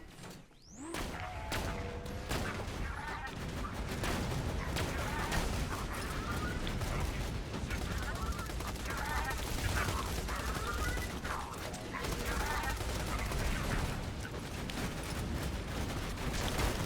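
Slag rifle gunfire in the video game Borderlands 2: sustained rapid bursts of shots with mechanical clatter, loud and continuous, with occasional faint talk.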